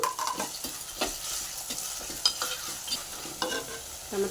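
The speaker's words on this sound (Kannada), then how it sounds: "ಈರುಳ್ಳಿ ಫ್ರೈ ಆಗಿದೆ. ಟೊಮೆಟೊ ಹಾಕ್ಕೊತಾ ಇದ್ದೀನಿ." Onion and tomato fry in a pan with a pinch of salt while a spoon stirs them, so a busy sizzle mixes with repeated scraping strokes, close and moderately loud, with no talking.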